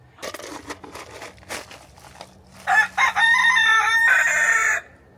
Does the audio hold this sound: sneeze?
no